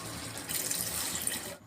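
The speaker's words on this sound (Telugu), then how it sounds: "తర్వాత 1 చెంబు వాటర్ పోసుకుందాం." Water from a jug is poured into a pot of brinjal curry cooking in a village kitchen. It makes a steady, close splashing pour lasting about a second, then cuts off.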